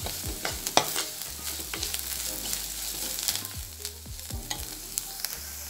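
Crushed chili frying in a pan while being stirred for sardine avial, steady close sizzling with repeated scrapes and knocks of the spoon against the pan throughout.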